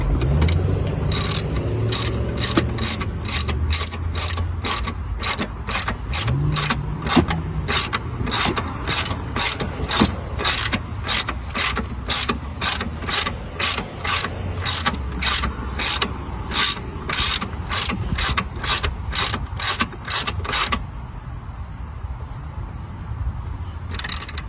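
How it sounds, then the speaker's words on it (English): Ratchet with a deep socket tightens transmission actuator bolts on a 2012–2018 Ford Focus, a long steady run of close, loud, evenly spaced clicks that stops near the end with no talking. "So now I use my deep socket"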